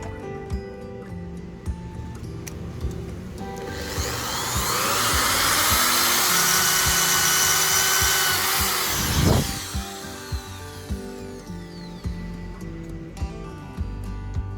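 A Doliz BA670 impact drill bores through material, a rising high whirring roar that holds for several seconds then fades, set among scattered clicks and knocks of handling before and after.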